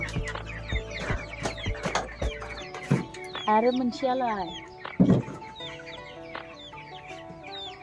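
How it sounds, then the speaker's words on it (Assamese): Local hens clucking close by at a broiler farm, a busy run of short repeated clucks and squawks with a brief louder call midway, mixed with people talking. "লোকেল মুৰ্গী বিলাক পুৰা দানা মাগি আছে"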